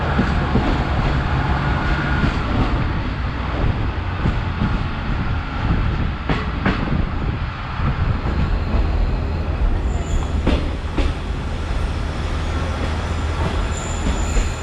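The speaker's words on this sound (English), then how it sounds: "We are leaving Yangon railway station, and we are going to travel clockwise around the city." A circular commuter train pulls out of Yangon railway station in Myanmar, its carriages rumbling and rattling steadily at close range, with occasional sharp wheel squeals and clanks over the low, continuous rolling drone.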